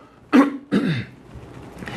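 Two quick, close throat clears in succession from a lecturer during a live law class, short and gruff, followed by quiet.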